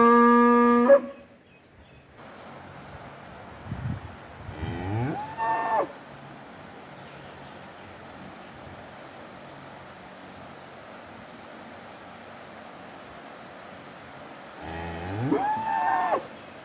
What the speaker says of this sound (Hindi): ये एक और हिफ़र है, ये आवाज़ें निकाल रही है।